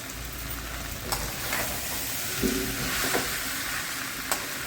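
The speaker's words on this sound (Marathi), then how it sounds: "आता ही भाज्या आपल्या परतत आलेल्या आहेत, त्याच्यामध्ये आपण गाजर टाकणार आहे" Vegetables with carrots sautéing in a pan for a traditional village-style Bhogi mixed vegetable dish, a steady soft sizzle with occasional clinks and scrapes of a spoon stirring.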